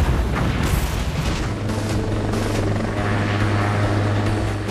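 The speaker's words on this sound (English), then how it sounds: "Another robot being developed for use by the U.S. military is this unmanned helicopter, Fire Scout" A steady rotor drone from a Fire Scout unmanned military helicopter in flight, with low thumping and broad rumble, loud and continuous throughout, with no voices.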